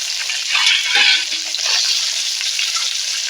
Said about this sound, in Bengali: এবারে ভেজে নেব ওই পুঁটি মাছগুলো